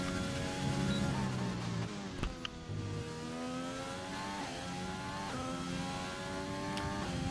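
A Renault race car engine screams through a hot lap at Sakhir in a racing video game, a loud continuous high-revving whine with a few quick dips at gear shifts.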